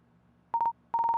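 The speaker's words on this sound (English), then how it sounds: "Let's call Sky" A phone is dialed with a quick burst of three clear tone beeps, a short pause, then a faster run of about seven even beeps, close and clean over a faint background hum.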